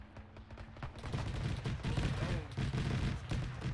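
Machine gun fire in the Arma 3 World War II combat game, a dense, continuous rattle of gunfire with distant battle noise, loud and sustained across the whole stretch, with no voices over it.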